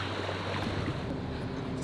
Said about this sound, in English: Just come up to the bow because we're motoring, so the engine's a bit noisy